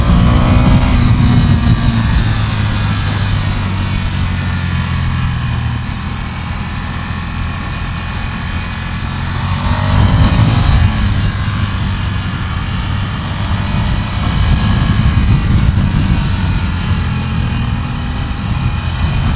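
A Ducati Scrambler Desert Sled motorcycle engine runs steadily on a mountain road, with a continuous loud drone, rising and falling slightly in pitch as it accelerates and eases off, and no talk.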